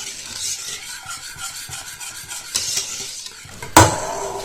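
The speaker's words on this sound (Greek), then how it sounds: "θα ανάψουμε την εστία και θα ανακατεύουμε διαρκώς μέχρι το μείγμα να έρθει σε βρασμό και να δέσει η μπεσαμέλ" A spoon stirs béchamel sauce in a pot on the stove, giving a steady scraping, swishing rhythm with soft bubbling sizzle underneath and a sharper clink of utensil against the pot near the end.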